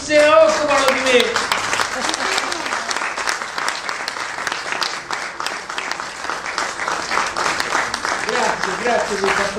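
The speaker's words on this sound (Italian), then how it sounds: "Grazie per questo applauso, vuol dire che mi approvate." Warm, sustained applause from an audience honouring a film director's 80th birthday, dense clapping throughout with a voice and a few cheering tones audible near the start.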